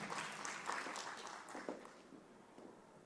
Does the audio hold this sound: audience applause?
yes